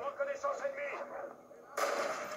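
Sniper rifle shots ring out in Call of Duty: World at War, a few sharp cracks with a louder blast near the end, under game sounds and a voice talking.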